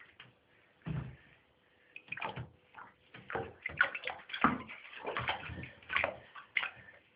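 A pet lizard splashes and paddles in a bath of shallow water, producing intermittent close sloshes and drips with quiet pauses between.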